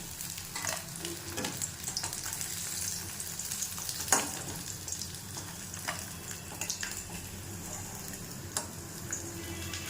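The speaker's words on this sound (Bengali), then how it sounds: "মাছগুলি ভাজা হয়ে গেছে, এরপর আমি মাছগুলি তুলে রাখবো।" Fish pieces frying in hot oil for doi katla, a steady close crackling sizzle that runs throughout, with a few sharp ticks and pops scattered through it and no talking.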